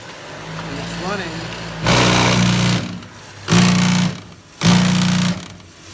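The electric motor of an IPC Eagle 712 floor sweeper runs in three loud, roaring bursts of about a second each, separated by short pauses. A voice talks quietly just before the first burst.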